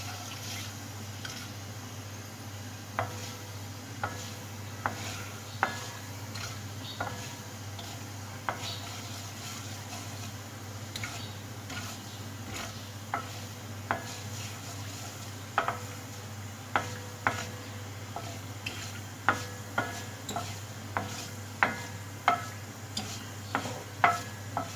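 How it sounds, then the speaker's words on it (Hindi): Fenugreek seeds frying in hot oil give a low continuous sizzle, with a series of light metallic taps and scrapes from a spoon stirring the pan that grow more frequent toward the end, no voices. "मेथी दाने को इतना फ्राई करना है इसका कलर ज़रा चेंज हो जाए।"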